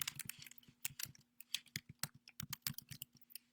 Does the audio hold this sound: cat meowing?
no